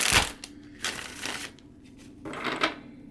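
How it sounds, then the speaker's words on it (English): A tarot card deck is shuffled by hand, face-up, in three brisk riffling bursts separated by short pauses, close and clear with no talking. "And then on every odd day of the month, I'll shuffle with the titles facing up"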